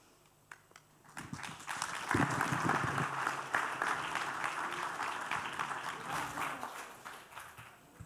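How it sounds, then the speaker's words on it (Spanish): An audience at a panel discussion on permit processing applauds the panel speakers, clapping starting softly, then swelling into a sustained moderately loud round of applause that fades slightly toward the close. "Más fuerte el aplauso, por favor"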